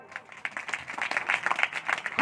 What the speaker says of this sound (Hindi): सच कह रही हूँ तो तालियां मिलनी चाहिए आपकी।